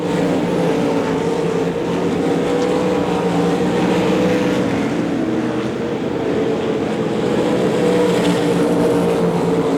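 Race cars at Devil's Bowl Speedway during a weekly championship race, a dense steady roar of several engines running close together, loud and unbroken throughout.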